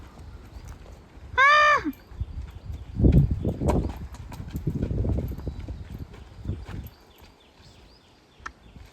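Hooves clip-clop on hard ground in an uneven walking rhythm, close by, after a brief high whinny-like call near the start.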